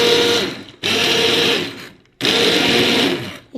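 A hand blender grinds cooked lentils into a smooth purée in three loud, close bursts of steady whirring, each cut off by a short silence.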